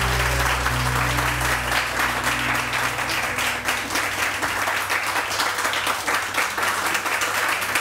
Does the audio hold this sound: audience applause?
yes